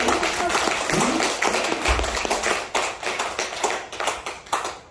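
Church congregation clapping for a visiting musician during a Sunday worship service, a steady patter of claps under a lively, reverberant room, with voices and other sounds mixed in throughout.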